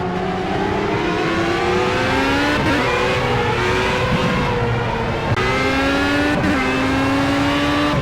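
A Formula A race car in Project CARS powers down the straight at the Nürburgring, its engine screaming loudly and continuously as it climbs through the revs, with two brief dips at gear changes and no talk.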